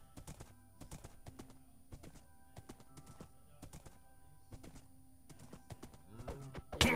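Horse hooves clop in Minecraft during a single-player pillager raid: a steady run of soft, evenly spaced knocks at moderate loudness, with a louder burst of noise right at the end.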